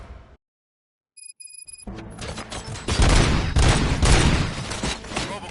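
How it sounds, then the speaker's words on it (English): Bursts of gunfire in the RoboCop: Rogue City video game: after a brief silence and a few high electronic tones, a loud, sustained volley of rapid shots and booms builds and keeps going, with no talk over it. "Gunshots?"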